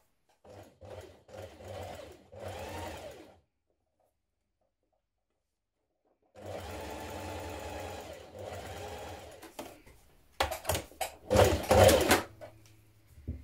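A sewing machine stitches a dress bodice in two steady runs of rapid, even motor whirring, close and clear, separated by a few seconds of silence, followed by a few louder mechanical clunks.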